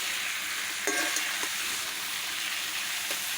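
Country chicken being stir-fried in a pan, a dense continuous sizzle with a few scraping stirs near the start, steady and fairly close, with no voices.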